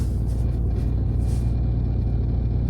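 A used five-year-old car idling with the clutch pressed down about an inch, giving a constant low rumbling rattle close up, steady throughout with no talk.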